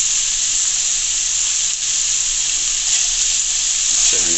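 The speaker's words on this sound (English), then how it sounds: "Now I'm going to just cover it and leave it to simmer" Ackee and saltfish simmer in a covered pan, giving a loud, steady sizzle and bubbling hiss that runs unbroken throughout, close up and without voices.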